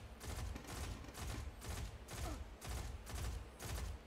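Weapons fire in Destiny 2 as a run of quick, regular bursts. The shots are fairly faint and arrive at a steady, repeating rhythm with no talk over them.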